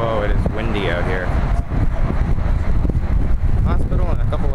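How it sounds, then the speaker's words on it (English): Gusty wind rumbles loudly across the microphone throughout on the Memphis Pyramid's high observation deck in Memphis, Tennessee, as a person talks over it. "It's really windy up here though."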